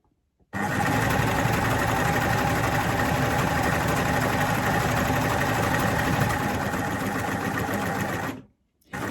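A coverstitch sewing machine stitches a plaid Rory satchel bag, starting abruptly and running as a loud, steady whirring drone close by for about eight seconds before cutting out just as suddenly.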